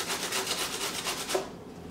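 Zucchini rubbed against a grater for zucchini bread, producing a quick, rhythmic series of close rasping strokes that stop abruptly near the end.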